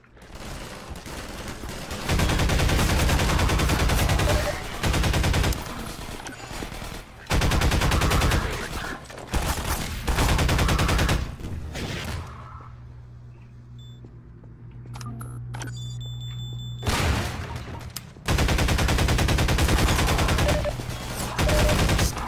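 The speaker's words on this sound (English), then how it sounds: "I like the sound of gun." Loud gunfire from Half-Life 2: Episode 1 comes in dense, sustained automatic bursts separated by short pauses, with a quieter stretch in between, up close and dominating with little talk.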